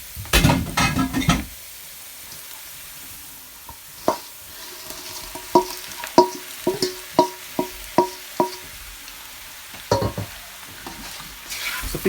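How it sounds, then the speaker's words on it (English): Shrimps added to a hot frying pan for Jamaican peppered shrimp, giving a loud burst of sizzle, then a string of sharp, regular knocks of a utensil on the pan over a low fry. "So now I'm just gonna add in the shrimps."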